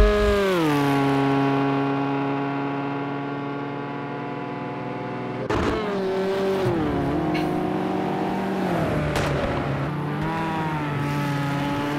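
A race car at Bathurst in a racing video game whines through its gears under braking and locks up, the tyre scrub and engine pitch dropping and rising again, loud and close with no talk.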